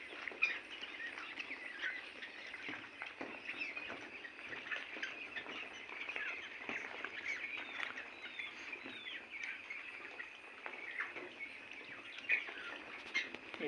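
Many quail on a quail farm chirp and peep continuously, a dense, busy chorus of small high calls that sounds close and steady throughout, with no talking.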